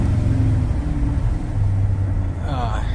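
An LS V8 swapped into a Chevrolet C1500 pickup idles steadily and close by, with a deep, even rumble that carries on throughout, partly under a man's speech.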